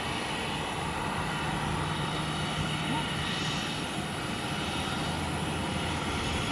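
A Southwest Airlines jet airliner at Sky Harbor airport gives off a steady, broad engine roar that fills the whole span at an even level, with no voices heard over it.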